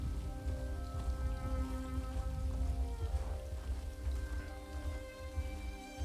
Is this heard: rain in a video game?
yes